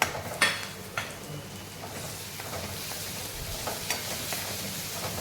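Minced mutton keema sautés in a pan with coriander-garlic paste, a steady soft sizzle broken by a few clinks and scrapes of stirring, close and fairly quiet, with no talking.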